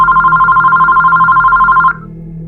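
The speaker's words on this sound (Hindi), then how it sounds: "तभी आशु का फ़ोन आता है।" Telephone ringing as a sound effect in a spoken horror story, a steady electronic ring pulsing rapidly and loud for about two seconds before cutting off abruptly, with no talk over it.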